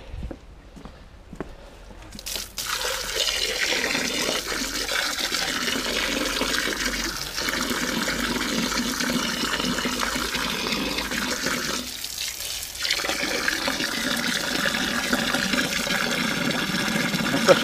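An upstairs toilet flushes while a blocked drain is being cleared. Loud rushing, running water fills the whole stretch after a brief quiet start, with one short dip near the middle.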